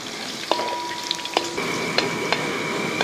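Garlic fries in hot oil for a lemon pickle, a steady close sizzle punctuated by several sharp clinks and scrapes as it is stirred in the pan.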